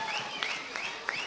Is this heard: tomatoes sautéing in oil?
no